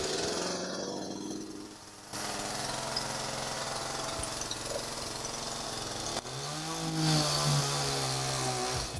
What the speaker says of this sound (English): You make her use the chainsaw?